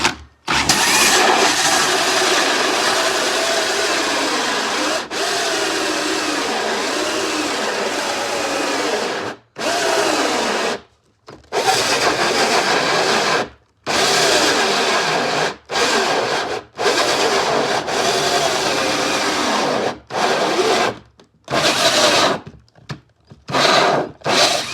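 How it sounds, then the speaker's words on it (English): A jigsaw-like power tool cuts the hole in a wooden cornhole board, buzzing loudly and close in long runs. It breaks off repeatedly into short silences toward the end as the cut goes around. "we're just going to start drilling."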